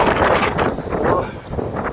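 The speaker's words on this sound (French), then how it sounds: "le petit vent est frais là" Outdoor wind blowing steadily with broadband buffeting and rumble, loud and continuous across the whole stretch, with no clear talk over it.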